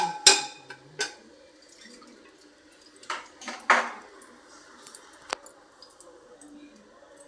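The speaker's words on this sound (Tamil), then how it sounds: "கடுகு பொரிஞ்ச உடனே" Mustard seeds pop and splutter in hot sesame oil while tempering for a tomato chutney: a handful of sharp, separate crackles and pings spread unevenly over a quiet background, with no talk.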